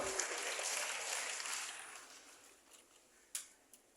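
Applause for Pak Alu Dohong at a youth gathering in Indonesia fades away over a few seconds, ending with a couple of isolated late claps in a quiet room.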